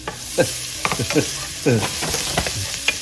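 Garlic sautéing in oil over medium-high heat in a pan, the opening step of a Filipino goat stew, with a steady close sizzle broken by repeated scraping and stirring strokes; no talking.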